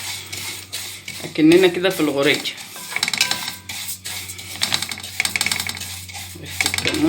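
Cumin seeds being toasted in a pan at home, with a metal spoon scraping and clinking against the pan in an irregular stirring rhythm while someone talks.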